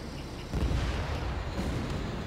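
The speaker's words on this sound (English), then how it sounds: "Lock on. Now! Mage 2, missile away." In the jet combat game Ace Combat 7, a missile launch and its blast come through as a loud, sustained rumbling roar that swells and holds steady.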